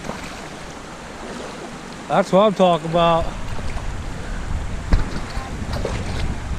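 Cold river water rushing steadily in the background, a continuous broad wash with a brief burst of excited talking partway through.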